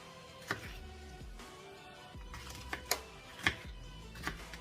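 A knife slices through a red bell pepper on a board with a handful of sharp, irregular clicks and taps, close and fairly quiet.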